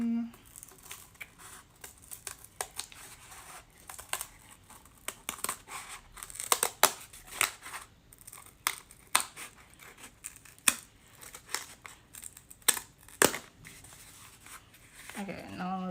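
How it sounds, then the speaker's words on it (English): Scissors snip through a soft clay slab while a heart dish is built, giving a run of small, crisp cuts and crinkly scraping at close range, with quiet talk in the background. "See how well we can do this with scissors."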